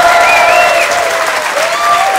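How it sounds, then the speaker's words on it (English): Applause from a theatre audience at a live comedy podcast recording in London's Leicester Square, a dense steady wash of clapping with some crowd noise and a whistle on top, sustained and fairly loud throughout. "Give him a big round of applause."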